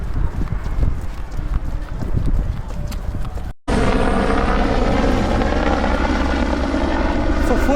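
Helicopter circling over the Comrades Marathon course, its rotor thumping and throbbing in a loud rush together with wind and footsteps, no talk heard.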